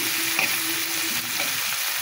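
Onions, green chillies and leftover potatoes fry in a pan with a dense, even sizzle for a couple of seconds. The sound is close and steady, with a faint stir, and no voice is heard.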